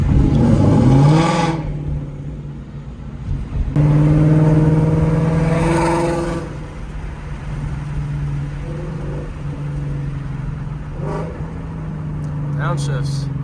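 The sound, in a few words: Ford Mustang GT Borla exhaust burble pops while driving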